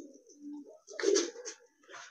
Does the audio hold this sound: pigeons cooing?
yes